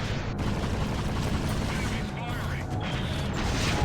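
Missiles launching during space combat in Freelancer, heard as rough whooshing bursts and thuds under a constant dense engine roar, loud and continuous, with a voice talking over part of it.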